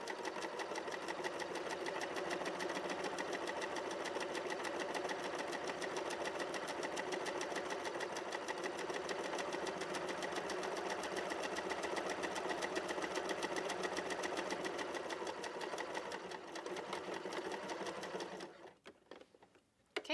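A sewing machine runs a back stitch along the edge of a piece of fabric, its needle hammering in a fast, steady rhythm close up for most of the time before slowing and stopping near the end.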